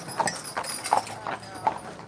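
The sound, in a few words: horse and carriage clip-clopping on Mackinac Island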